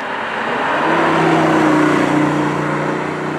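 BMW i8 cruising at normal speed in comfort mode, a steady, loud engine and road drone with a low hum that holds even throughout, no talking.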